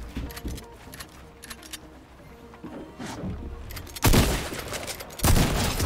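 Gunfire from the Fortnite video game rattles in scattered light shots, then breaks into two loud, dense bursts near the end, with no speech.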